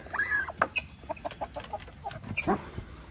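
Chickens cluck and squawk in a coop with a turkey present, a busy close chorus of short clucks and rising calls layered over one another.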